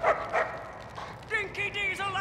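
A dog in the Mad Max video game gives two sharp, close barks, followed by higher whining yips, with voices blended in.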